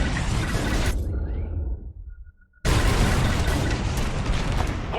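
A heavy, full-band blast of bombs going off in the space combat game Star Wars Squadrons, followed by a brief near-silent gap with a faint tone, then another loud sustained explosive roar.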